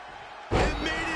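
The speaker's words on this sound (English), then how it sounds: "Immediately into a sit-out powerbomb." In the WWE 2K25 wrestling video game, a sit-out powerbomb lands as a single heavy slam on the ring, a sudden loud impact followed by sustained crowd noise.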